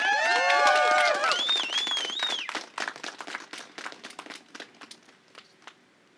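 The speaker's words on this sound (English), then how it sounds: "Please give her a round of applause and welcome." Applause from a small audience at a press conference in a church, brief scattered clapping that fades out, heard after a whoop or whistle at the start.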